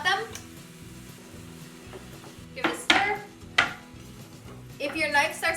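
Cut carrots and potatoes are stirred into a soup pot, with clanks and scrapes of a utensil against the pot growing louder toward the end over a quiet background.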